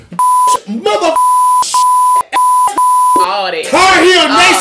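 A censor beep repeatedly cuts across speech in a podcast, several steady high tones switching on and off in short bursts between fragments of talk, ending with voices talking over each other.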